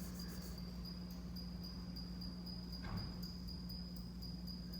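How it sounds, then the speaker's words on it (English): Crickets chirp faintly in a steady, high, continuous trill inside a quiet room, with a low hum underneath and a brief soft rustle partway through. "I think there's actually a couple little crickets in here."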